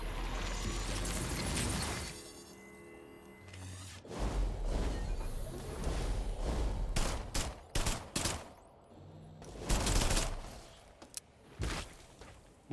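Bursts of gunfire from the System Shock remake, fired at a cluster of alpha mutants; several loud, sharp volleys and single shots separated by short gaps, with softer game sounds in between.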